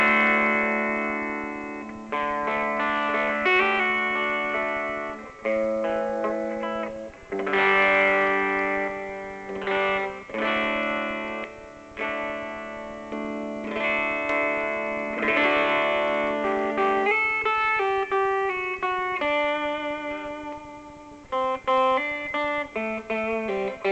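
An electric guitar plays through a small portable single-12-inch mono amp with spring reverb, the chords and single notes ringing out alone with an effected, distorted shimmer and reverb tails.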